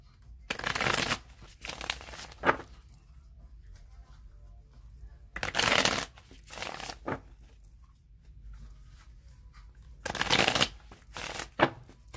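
Tarot cards riffle-shuffled in three rounds, each a quick burst of crisp flutters and snaps, separated by quiet pauses.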